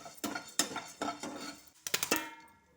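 A lid goes onto a pan of frying food with a run of sharp metallic clanks and clatters, close and distinct, fading into quiet.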